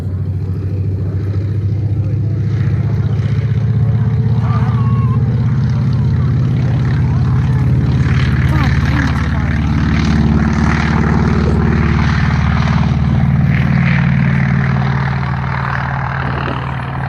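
A WWII Douglas SBD propeller aircraft drones past, its deep, loud engine roar swelling and fading gradually over about seventeen seconds.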